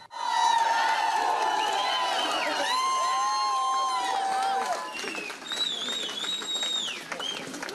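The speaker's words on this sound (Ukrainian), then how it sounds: "Уже під воротами військової частини містяни влаштували спецпризначенцям справжню овацію" Townspeople crowd the gates of a military unit to greet returning special forces soldiers, a loud sustained din of cheering and shouting voices filling the air, with whistles and shrill calls riding over the crowd throughout.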